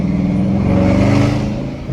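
Loud supercharged 5.7 Hemi V8 in a Dodge Challenger R/T revs hard on city streets in Atlanta, a deep rumbling roar that swells and holds steady throughout, close and powerful with no talking.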